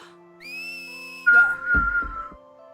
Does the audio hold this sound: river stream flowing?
no